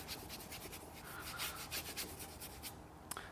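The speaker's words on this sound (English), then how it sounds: "Go ahead and fill in the rest of the piece using terp, just scrubbing it in." A brush scrubs turpentine-thinned paint onto canvas in repeated close, rasping strokes about a few per second, ending with a brief tap.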